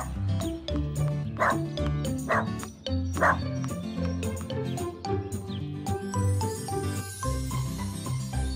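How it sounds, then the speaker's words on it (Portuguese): A toy puppy in a children's cartoon yaps and barks repeatedly in short, high bursts over a bouncy music score, with small jingles and tinkles around it. "A Mimi trouxe um cachorrinho de brinquedo."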